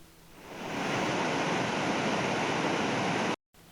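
Raging waterfall in Awash National Park, Ethiopia, a dense, constant roar of rushing water that swells in and holds steady before cutting off abruptly.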